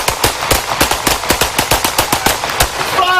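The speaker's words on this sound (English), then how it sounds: "shots fired by police" Police gunfire during an exchange of shots at a car, a rapid string of about fifteen sharp, loud shots fired in quick succession, close by.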